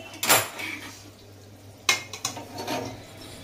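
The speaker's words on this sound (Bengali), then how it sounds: "এবার আমি একটা পাত্রে ঢেলে নিচ্ছি।" Cooked koi fish, prepared in oil with mustard oil, goes from the pan into a bowl: two sharp metallic clinks of utensil on cookware, then a few lighter scrapes and knocks, close and isolated.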